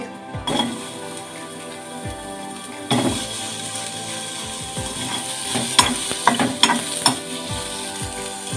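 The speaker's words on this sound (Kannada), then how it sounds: "ತಿಳಿ ಸಾರು ಮಾಡೋದಕ್ಕೆ ನೀರುಳ್ಳಿ ಹುರ್ಕೊಳ್ತೇನೆ" Onions fry in a pan for a mung dal tili saru, sizzling loudly up close while a spoon stirs and scrapes against the pan in bursts, with no voices.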